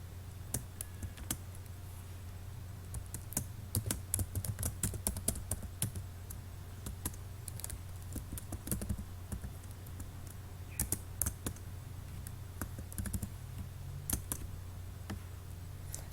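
Rapid typing on a computer keyboard as a medicine name is entered into a pharmacy information system form: irregular bursts of crisp key clicks over a steady low hum, with no talk.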